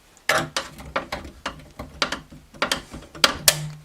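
Needle nose pliers twist a metal knockout out of an electrical box, giving a series of close, sharp metallic clicks and creaks in an uneven rhythm, about a dozen ratchet-like snaps with no talking.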